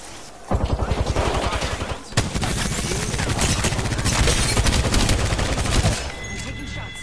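Rapid automatic gunfire from a battle in Apex Legends, a loud dense burst of shots that pauses briefly then resumes as sustained heavy firing before fading out near the end.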